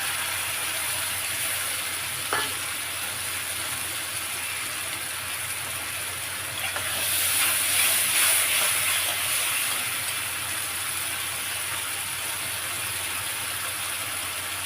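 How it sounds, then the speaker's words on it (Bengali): Coriander, chili and ginger sizzle in hot oil in a cooking pan, a steady loud hiss that swells briefly midway, with no talking. "এবারে এর মধ্যে ধনে দিয়ে লঙ্কা আর আদা আছে সেটাও দিয়ে দিলাম"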